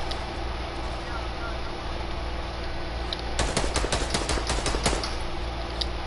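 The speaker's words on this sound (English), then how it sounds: "Don't even know where you're shooting at anymore." Rapid bursts of automatic gunfire from a PS4 shooting video game crackle loudly over a steady background hum for a couple of seconds, with a voice talking in between.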